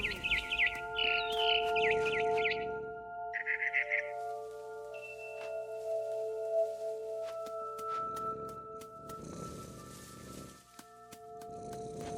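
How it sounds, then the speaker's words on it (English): In the video game What Remains of Edith Finch, bursts of quick, high bird chirps play over steady, sustained synthesized music tones, then the chirping fades as the music continues. "Then I heard chirping outside my window."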